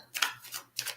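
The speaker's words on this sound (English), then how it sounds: "shuffle these up" Tarot cards being shuffled during a live psychic reading, in three quick papery riffling bursts close to the mic, with a faint steady hum underneath and no talking.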